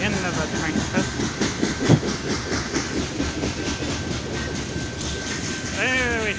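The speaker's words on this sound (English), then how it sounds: "Very heavy train system." A long, heavy, slow-moving freight train rumbles past with steady rhythmic clatter of wheels on rails, loud and close, a brief voice cutting in near the end.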